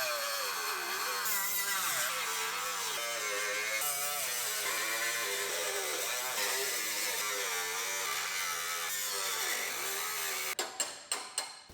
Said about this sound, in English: Now we can cut out our seam welds.